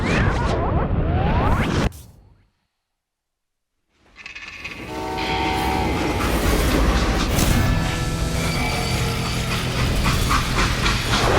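A train in the Western shooter Call of Juarez: Gunslinger: a brief rumble breaks off into a couple of seconds of total silence, then steady, loud rolling rail noise returns with a horn-like tonal wail and continues throughout.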